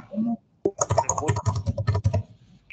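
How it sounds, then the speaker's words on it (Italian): Computer keyboard typing picked up by an open microphone during a municipal council session, a rapid run of close, sharp key clicks following a short burst of background talk. "c'è qualcuno che ha il microfono acceso e batte la tastiera del computer"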